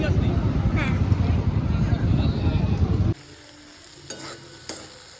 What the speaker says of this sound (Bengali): তার জন্য মশলাটা কষা হচ্ছে